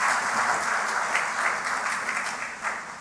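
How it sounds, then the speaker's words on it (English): Conference audience gives a round of applause, a dense patter of many hands held steady for several seconds and easing slightly toward the end, heard alone. "So give them another round of applause for so many reasons."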